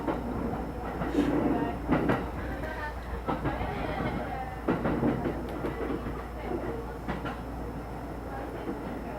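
Interior ambience on a slower, non-express train in Japan: a steady low rumble with irregular clacks and rattles from the carriage, people talking quietly over it.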